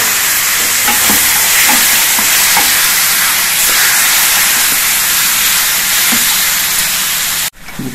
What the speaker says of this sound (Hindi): देखिए अब इसी मसाले में हम इसको डाल देंगे। अच्छी तरह से मिलाएंगे इसको।